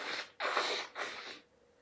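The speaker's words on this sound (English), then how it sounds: "Excuse me while I blow my nose." Three forceful, breathy nasal blasts in quick succession, like someone blowing their nose close by, then quiet.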